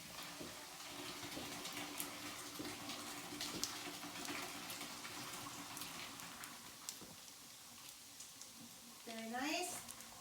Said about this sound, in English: I'm going to strain it into, I have a strainer here in the sink.